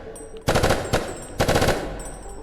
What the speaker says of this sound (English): I can shoot him in the leg, maybe.